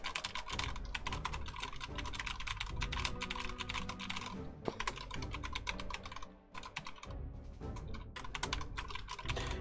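Fingers hammer rapidly on a cheap, clicky Razer computer keyboard, producing a dense and continuous clatter of loud, close keystrokes that barely lets up during the whole stretch.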